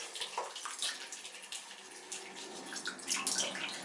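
Water rinsing the plastic parts of a Numatic Henry HVC200 vacuum cleaner: a quiet, steady splashing and running flow with a few brief surges, close by with no talk.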